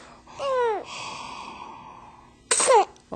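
A person's sneeze, heard close as a sharp breathy burst after an earlier inhaled sound, with a brief pause between them and no talk.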